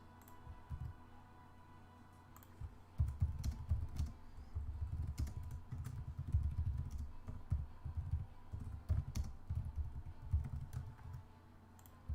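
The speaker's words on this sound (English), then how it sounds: "You're gonna hear a lot of keyboard sounds too, like just from this game." Rapid computer keyboard typing during a PC game, close and clear: bursts of clattering keystrokes start and stop in uneven runs over about twelve seconds, with no talking.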